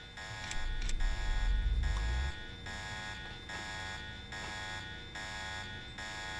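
A harsh electronic alarm buzzes in Deus Ex, droning continuously with a regular pulsing beat about once a second, while a low rumble sounds briefly at the start.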